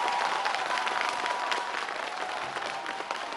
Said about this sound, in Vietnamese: xin quý vị một lần nữa một tràng pháo tay nồng nhiệt cho những điều mà cô ca sĩ trẻ này đã làm